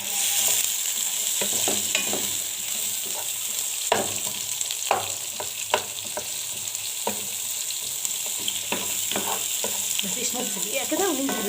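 Onion rings sizzle steadily in a hot frying pan, broken by scattered scraping clicks as they are stirred, close up and without voices.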